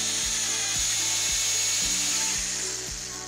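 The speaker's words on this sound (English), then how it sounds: "Using a diamond tip hole saw, score the coating until just reaching the substrate." A diamond-tipped hole saw on a drill scores through a manhole rehabilitation coating, a continuous high grinding whine with rhythmic low thumps, close and loud.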